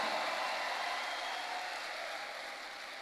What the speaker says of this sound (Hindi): हाथ उठा के बजाओ, जानदार तालियां